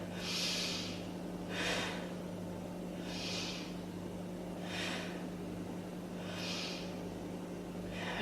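Slow deep breathing held during a beginner yoga pose, five long audible exhales through the nose spaced about one and a half seconds apart, close to the microphone over a low steady hum.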